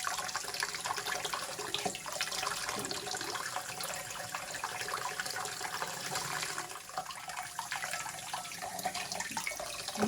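Warm water pours steadily from a kitchen tap, a faint, continuous broadband rush with no breaks.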